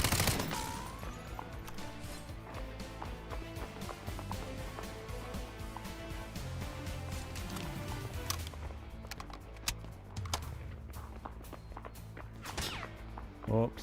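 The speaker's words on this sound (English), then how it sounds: "Someone's shooting, that's... No, he's shooting at me, okay." Rapid gunfire in the video game Delta Force crackles in dense automatic bursts and single cracks, some near and loud, others more distant, continuing throughout amid footsteps and game noise.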